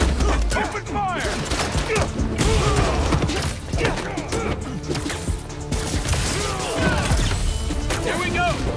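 Enemy gunfire erupts in the video game Spider-Man 2, dense bursts of shots mixed with crashes, thuds and whooshing action effects, continuous and loud, with voices shouting under the chaos.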